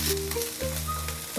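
Mixed vegetables frying in a pan over medium flame for a creamy vegetable curry, a close, steady sizzle with a few soft stirring scrapes and no talking.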